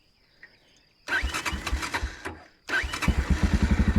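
Tekken 2024 motorcycle engine starting: a brief cranking attempt, then a second start that catches into a loud, close, rhythmic idle thump with no talking.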